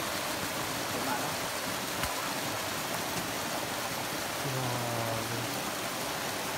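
Water from a mountain spring pours steadily through an improvised bamboo pipe, a continuous close rush of splashing with no breaks, and a faint low hum drifts in near the end.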